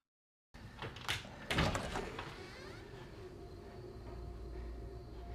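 A house door creaking open in the horror film The Night House: an abrupt opening creak and knock, then a sustained low, drawn-out groan of the moving door.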